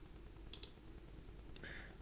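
A few sharp mouse clicks on buttons while adding columns and rows to a table in a presentation, two quick clicks close together, then a softer pair a second later over quiet room noise.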